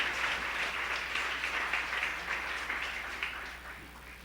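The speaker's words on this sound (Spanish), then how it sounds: "Un aplauso al Señor." A church congregation applauds, a dense wash of many hands clapping at once that stays steady and then slowly fades.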